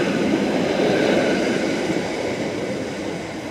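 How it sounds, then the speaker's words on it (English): A train rumbles at a station platform bound for Headbolt Lane, a loud, close, broadband roar with rolling wheel noise that eases slightly as it moves off, no voices. "here we are at the station, and there's the train that I will be getting, but right now it's going towards Headbolt Lane"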